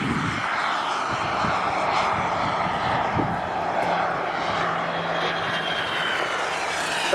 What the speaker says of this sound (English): the Blue Angels FA-18 Hornet of the Blue Angels. Full and large looping type and rolling maneuvers.